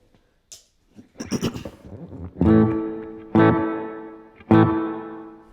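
Electric guitar notes played through the spring reverb of a Strymon Blue Sky pedal, three strummed chords ringing out with a splashy, metallic, drippy tail after some opening picking.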